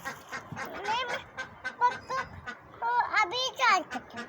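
Ducks quacking close by in a run of loud, nasal honking calls in quick bursts, alone with no talking.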